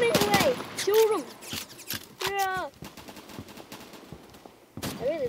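Rapid bursts of gunfire and single shots from the Roblox first-person shooter Phantom Forces, scattered through a lively match while players talk and shout over the action.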